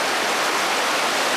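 Churning whitewater rapids on the Upper Yatt river roar in a dense, continuous hiss, loud and close, with no voices.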